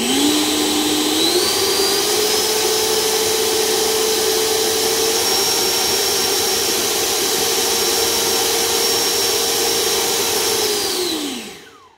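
An RC model's electric propulsion motor spins up at a little throttle, a loud, close, steady whine with a constant pitch that holds for several seconds before spooling down and fading out at the end.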